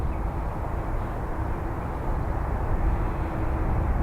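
Airliner taking off from runway 10 right at Dublin Airport, a steady broad roar of jet engines that holds loud and constant throughout, without voices.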